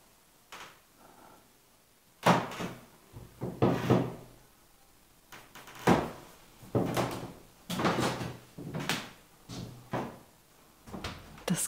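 Old wooden floorboards or doors creak inside the medieval castle Burg Friedland in Brandenburg, with repeated groaning, knocking bursts at an uneven pace, fairly close and loud, with no speech over them.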